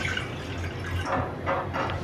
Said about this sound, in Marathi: एका टोपामध्ये एक ग्लास पाणी घेऊया